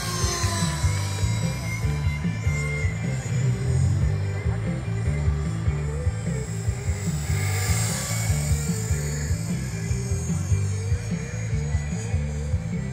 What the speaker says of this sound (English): This is not a good smacking heli.